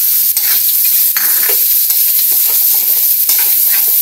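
Garlic and onion hit hot oil in a centennial kawali, giving a loud, close, constant hiss with bursts of crackle and stirring, uninterrupted by any voice.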